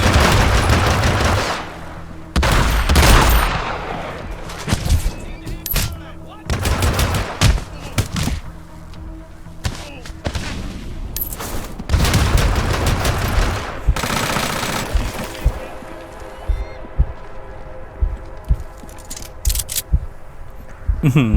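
Repeated heavy shotgun blasts in Hitman Absolution, loud booming shots in irregular clusters over about twenty seconds, mixed with other gunfire in a close-range firefight.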